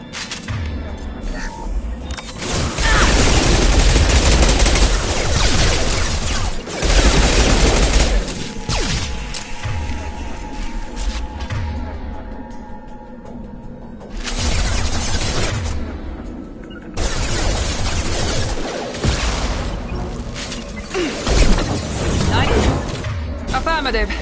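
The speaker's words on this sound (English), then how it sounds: "Shotgun!" Shotgun blasts in the Mass Effect 2 game land as heavy booming thuds amid a combat mix of gunfire and impacts, with spoken voices over the action.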